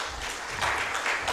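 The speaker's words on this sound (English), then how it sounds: "Can we also clap for them?" An audience at a film festival claps, a short, fairly loud mass of hands that swells a little partway through.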